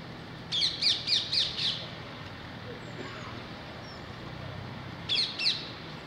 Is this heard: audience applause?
no